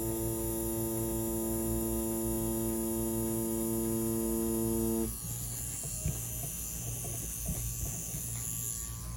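An Inkball Challenger tattoo machine runs with a steady electric buzz, close and continuous, with a tonal hum that drops away partway through, leaving a rougher, quieter whir.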